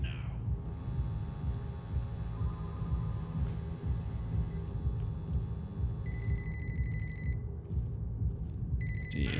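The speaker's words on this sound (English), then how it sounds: "Is a phone on the ground ringing?" A telephone lying on the ground in the video game Ready or Not rings in short repeated bursts over a steady low rumble of game ambience, most clearly in the last few seconds.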